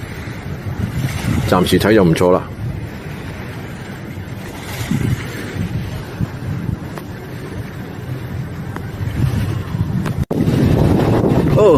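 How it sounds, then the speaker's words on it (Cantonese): Seaside at night by the Hilton Hurghada in Egypt: wind buffets the microphone over soft lapping waves, while people talk nearby and a sharp knock cuts in near the end. "聽下啲水聲啦嚇"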